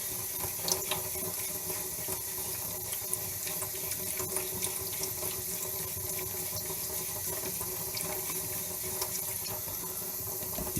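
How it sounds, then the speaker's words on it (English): Steady wet scuffing of 2000 grit sandpaper on a car headlight lens, a continuous watery hiss with small scratchy ticks throughout, close and even in level with no pauses. "this makes less of a scuffing sound with the 2000 grit compared to the 1000 or more coarse grit"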